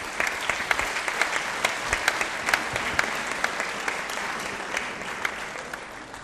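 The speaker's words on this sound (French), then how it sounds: "je vous demande d'applaudir notamment notre amie" Audience applause at an evening campaign meeting in Bessan, steady dense clapping with sharp individual claps standing out, sustained at even loudness throughout.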